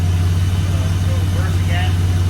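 A 1995 Chevrolet Cheyenne pickup with a 4.3 engine and NV3500 manual gearbox pulls off gently in first gear, its steady low engine drone close and constant with only slight rise in pitch.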